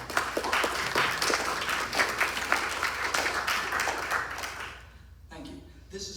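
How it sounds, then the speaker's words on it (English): An audience applauds at a gathering, producing a dense, loud patter of clapping that fades out after several seconds, followed by a voice speaking. "let's applaud like crazy for him."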